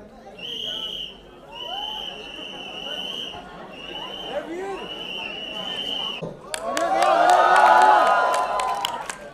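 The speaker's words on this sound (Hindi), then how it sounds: "जब रणबीर ने एंट्री की, तुमने ताली बजाई" Audience at the Tu Jhoothi Main Makkaar trailer launch breaks into loud crowd applause and cheering as Ranbir Kapoor enters, swelling after a stretch of steady tonal sound with crowd noise beneath.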